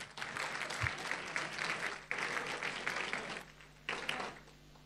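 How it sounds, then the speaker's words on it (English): A room of gala dinner guests breaks into steady applause, dense and fairly loud, with the clapping surging in overlapping waves and briefly dipping before swelling again. "I'd like you to give yourselves a big round of applause."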